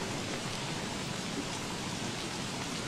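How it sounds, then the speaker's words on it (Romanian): Steady, dense rain hisses evenly and without pause in the Don't Starve video game, a soft, continuous wash with no voices. "M-am săturat deja de ploaie"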